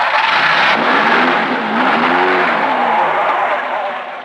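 A car is driven into a garage in the 1974 Hindi film 36 Ghante, its engine revving loud and close with a squealing, skidding whine of tires and no talking.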